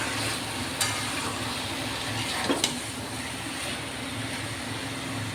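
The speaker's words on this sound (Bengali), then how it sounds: "নাড়াচাড়া করে মশলার সাথে প্রথমে মিশিয়ে নিই।" Food frying with spices in a pan gives off a steady sizzle and hiss, broken by a few sharp scrapes of stirring, close and continuous with no talking.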